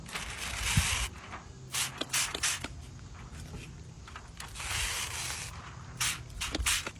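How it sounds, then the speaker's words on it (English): A spray bottle mists soapy water onto pre-cut window tint, heard as several short hissing bursts separated by brief pauses and faint handling noises, close up with no talk. "take your pre-cut tint, kind of get the edge and spray it, soapy water"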